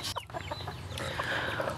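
A chicken clucks softly up close while pecking at sardines, a few short clucks over quiet background.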